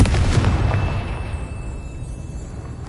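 Confringo fire spell explosion in Hogwarts Legacy, a loud blast at the start that tails off into a long rumbling decay, with a thin ringing tone hanging over it.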